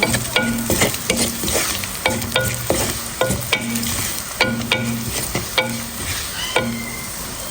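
Onions frying golden in a pan before greens go in for a bottle gourd and bean dish, with steady close sizzling and repeated sharp scrapes and stirs of a spatula in a regular rhythm, no voices.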